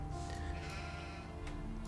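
Sheep bleating in the Gothic II video game, a drawn-out wavering bleat sitting low in the mix over steady background game sound, with no talking.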